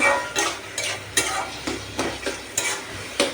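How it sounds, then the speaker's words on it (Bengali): Taro leaves (kochu shak) frying in a pan with rhythmic stirring, each scrape of the spoon rising over a soft steady sizzle, repeated every half second or so at close range. "নাড়িয়ে চালিয়ে দিলাম এবার"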